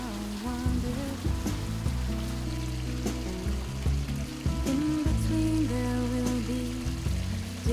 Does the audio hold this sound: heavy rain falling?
yes